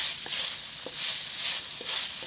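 Meat cooking in a hot pan, a steady close sizzle swelling and fading in slow waves as it is stirred, with a few faint scrapes and no talking.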